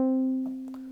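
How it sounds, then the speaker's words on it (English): A triangle-wave synth bass tone holds one steady low note, thin and plain with few overtones, while brief soft noises flicker in the background. "The triangle will sound like this."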